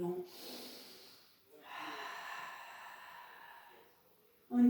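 A close, audible breath drawn in during a Pilates arm-circle exercise, a soft airy inhale lasting a couple of seconds between quieter breaths, with no speech over it.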